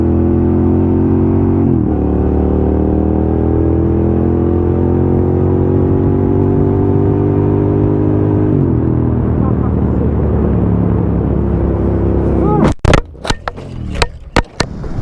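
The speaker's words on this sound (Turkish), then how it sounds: "ben o kamyonun olduğu yerde şu anda 90 km hıza gidiyorum" Car cruising at about 90 km/h on a road with a truck ahead, a steady loud engine and road drone with gently shifting pitch, then sharp knocks and bumps near the end.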